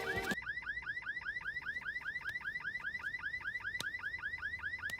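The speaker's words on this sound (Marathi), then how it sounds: "गाडीचा हॉर्न." A car's alarm siren warbles in rapid, evenly repeated rising sweeps, loud and steady from start to end with no voices over it.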